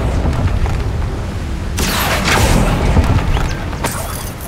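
A Confringo spell in Hogwarts Legacy sets off a loud booming blast with crackling debris, following a rumbling game background, and no one speaks.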